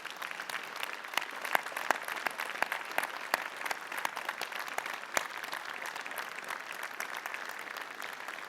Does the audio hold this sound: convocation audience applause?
yes